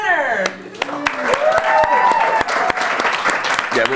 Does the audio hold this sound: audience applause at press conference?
yes